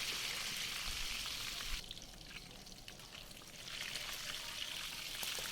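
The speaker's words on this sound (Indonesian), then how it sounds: "ini sisa minyaknya tadi kita pakai untuk goreng ayamnya" Chicken breast fries in leftover cooking oil with a dense, steady hiss and sizzle that dips partway through and then swells again, with no talk.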